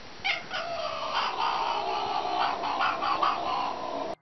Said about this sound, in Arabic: في بعض الأحيان قد تصدر القطة صوتاً يشبه صوت الغرغرة أثناء لعقها لشيء مثل الطين الرملي أو عند تناول الطعام